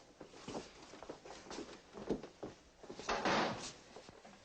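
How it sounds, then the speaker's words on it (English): An indoor office door is pushed shut amid a tense hostage standoff, giving a series of faint knocks and handling thumps that build to a firmer close near the end, with no talk over it. "Shut the door."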